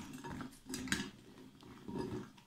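A metal skimmer stirs lokma dough balls frying in hot oil, with soft scraping and clinking against the pan over a low sizzle, quiet and close.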